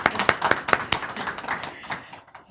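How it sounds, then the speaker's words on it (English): Audience claps at a business development graduation ceremony, sharp irregular hand claps close by that thin out and fade over a couple of seconds. "Let's give a round of applause, please."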